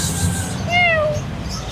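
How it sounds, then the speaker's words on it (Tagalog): A five-month-old female Persian cat at a pet market in Manila gives one clear, rising-then-falling meow, close and fairly loud over steady background crowd noise. "meron pa tayo nag-iisang pusa dito"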